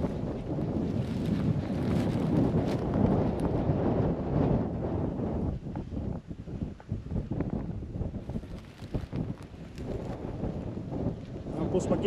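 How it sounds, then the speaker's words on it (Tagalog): Strong wind on a mountaintop roars and buffets the microphone continuously, with a low rumbling gust noise that dips briefly midway before surging again. "ang lakas ng hangin, ha."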